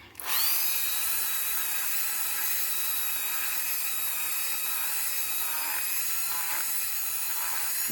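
A rotary tool fitted with a new, coarse bit grinds steadily against a polymer clay pendant, a high, continuous whine starting abruptly and holding close and loud throughout with slight shifts in pitch as it bounces along.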